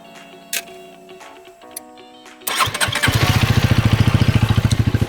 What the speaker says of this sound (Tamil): இதோட எக்ஸாஸ்ட் நோட் பற்றி கேட்கலாமா? ஸ்டார்ட் பண்ணி ரெடி யுவர் லெஜெண்ட் அப்படின்னு வரும்